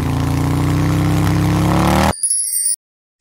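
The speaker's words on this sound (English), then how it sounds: "Motorcycle." A motorcycle engine revs in a steady, loud harmonic drone for about two seconds, cuts off abruptly, and is followed by a short series of bright chiming tones.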